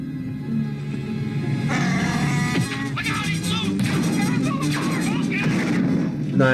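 Blaster fire from Star Wars: A New Hope, a rapid series of sharp energy shots in a cell-block firefight, heard under a film soundtrack while people talk over it.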